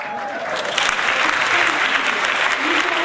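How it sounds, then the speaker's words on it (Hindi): An audience claps steadily through a Bible quiz final, a dense, even wash of applause, loud and close, with talk faintly underneath. "आप ताली बजा रहे हैं, इनको बजाने दे तालियां।"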